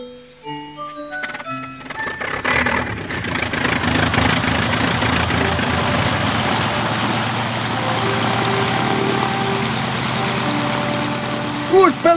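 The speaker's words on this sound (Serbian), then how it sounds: "Bila je to u istoriji avijacije prva jedrilica pokrenuta motorom sa elisom." The 1903 Wright Flyer's propeller engine runs with a steady, rough mechanical drone that holds for several seconds after a few musical notes at the start.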